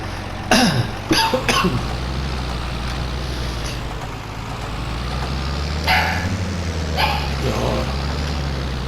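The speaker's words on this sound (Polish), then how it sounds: "Mały trzymiesięczny szczeniak. Odzywa się." A small three-month-old puppy lets out a few short, sharp yaps in two brief bursts over a steady low engine drone during barley sowing, with no talking.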